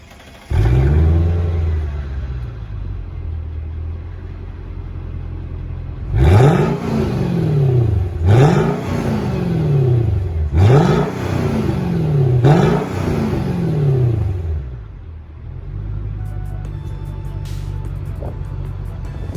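A Mercedes C55 AMG engine, an M113, revs up four times in a row, each burst climbing then dropping, loud and close, between stretches of steady idling.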